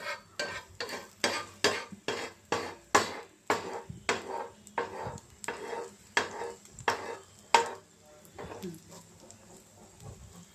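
An omelette cooks in oil in a pan while a utensil scrapes and stirs in a steady series of sharp, close strokes over a soft sizzle, with a voice speaking at times.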